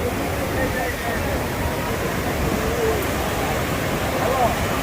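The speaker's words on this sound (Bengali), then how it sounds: "বন্ধুরা, আমি সমুদ্রের অনেক নিকটে চলে এসেছি।" Sea waves at high tide on Kuakata beach make a continuous broad, loud roar of surf, steady and close with no break.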